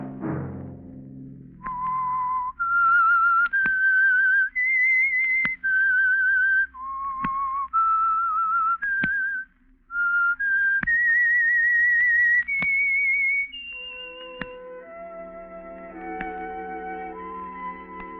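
A lone whistler performs a slow, eerie melodic theme for the old-time radio mystery program The Whistler, with clear sustained notes, footstep-like taps between phrases, and a soft orchestral chord swelling at the end.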